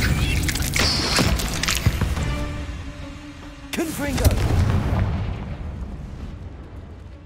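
A Confringo fire spell blasting in Hogwarts Legacy, a loud, sustained explosive burst with crackling rumble that swells again midway and trails off into a dull roar.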